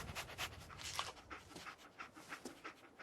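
Rapid, rhythmic panting from the companion dog Dogmeat in the Fallout 4 video game, breathy and moderately faint, continuing steadily throughout without speech.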